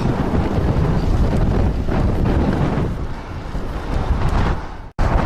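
Strong wind buffets a microphone on a road ride in Ukraine while testing new tyres on a Merida Silex 300 gravel bike, a loud continuous rumbling roar with a brief dropout near the end.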